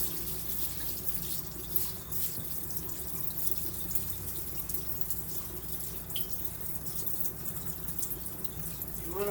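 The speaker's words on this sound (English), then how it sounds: "So right now I'm going to wash my rice." Rice is rinsed under a running kitchen faucet, with a steady close stream of water splashing into a bowl and sink alongside small drips and swishes throughout.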